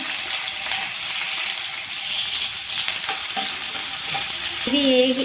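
Onions hit hot oil already crackling with cumin and mustard seeds, a loud, dense, continuous frying sizzle with brief stirring scrapes and a short tonal squeak near the end.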